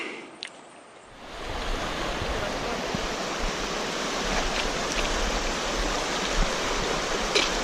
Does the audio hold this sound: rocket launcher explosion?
no